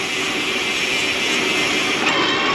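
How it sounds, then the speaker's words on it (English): A loud motorbike roars past on a city street, a steady broad engine rumble close by that holds strong throughout with a slight swell near the end. "A loud bike."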